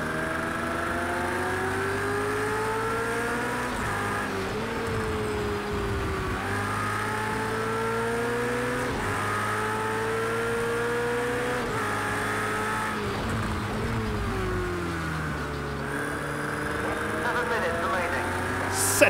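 A race car engine in Project CARS 2 drones loudly and continuously, its pitch climbing and dropping sharply at each gear change as the car slides through corners.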